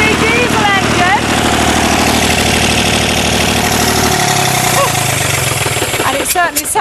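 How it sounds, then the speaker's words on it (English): A diesel engine converted to run on algae fuel chugs loudly and steadily nearby, its knocking idle rhythm dropping in pitch partway through, with a voice briefly audible over it. "it certainly sounds like a diesel engine. But in fact, it's been converted to run on algae"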